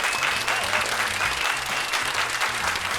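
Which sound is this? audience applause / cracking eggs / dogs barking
audience applause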